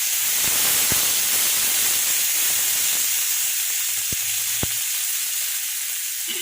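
Chopped onion frying in hot mustard oil for a light gurjali fish curry, a steady broadband sizzle and hiss that runs the whole way through, close and even, with a few faint clicks from the pan.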